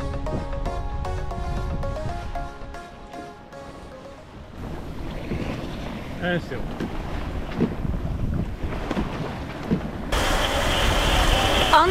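A sailboat under sail in a 21-knot true wind, making about 7.5 knots, with steady wind rush and water noise building louder toward the end, partly overlapping music early on.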